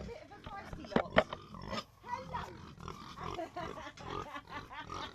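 A feisty group of farm pigs grunts and oinks close by in bursts of snorts, with a person's voice mixed in among them.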